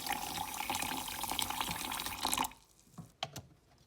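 Water pours steadily into a blender jar with milk for a smoothie, a continuous close splashing fill that stops abruptly, followed by a few faint drips and small knocks.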